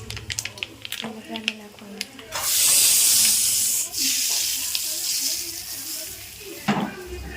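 A hot tempering of whole spices hisses and sizzles loudly as it is poured over handvo, a sustained crackling burst that fades slowly, with a person talking in the background.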